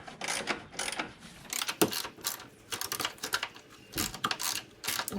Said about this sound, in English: ratchet it in